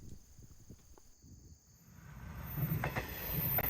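An express train on the Yakumo service rumbles closer at Bitchu-Kawamo Station, Japan, its low clatter and rushing noise building steadily to a loud roar by the end, with faint insect chirping in the background.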